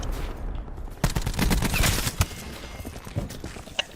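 Dense rapid gunfire bursts in the shooter video game Black Ops 4, loud and close, rattling for several seconds and then thinning to scattered shots.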